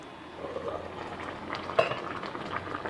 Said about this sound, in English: this is boiling really nicely here now